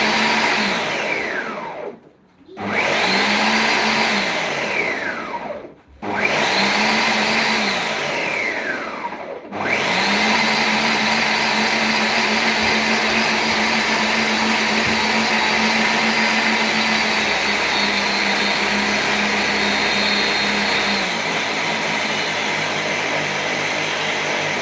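Vegetables for sauerkraut are pureed in a blender. It runs in two short whirring bursts with brief pauses between them, then in one long continuous roar that changes pitch as the contents churn. The motor is loud and close, and no one speaks.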